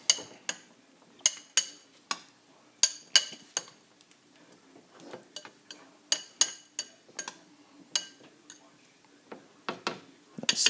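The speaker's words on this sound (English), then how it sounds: "Mix that all up." A utensil clinks against a bowl while taco ingredients are mixed with white vinegar, producing irregular sharp taps and scrapes that are close and clear, with speech between them.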